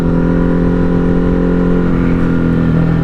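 A Ducati Hypermotard 950 RVE motorcycle engine pulls hard under acceleration, a loud, close, steady droning roar with strong harmonic tones that shifts pitch slightly near the end as the quick shifter changes gear.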